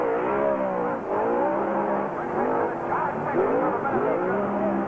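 New Zealand stock cars racing on a track, engines droning and rising and falling in pitch as they run in a pack, steady and fairly close under a commentator's voice.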